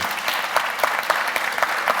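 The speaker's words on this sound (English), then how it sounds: "Can we give a warm round of applause and say thank you?" An audience at a lecture applauds steadily, a dense wash of many hands clapping at moderate volume throughout.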